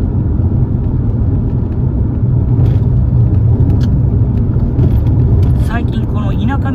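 A car driving along a rural country road, with a steady low engine and road rumble continuing throughout while a person talks over it.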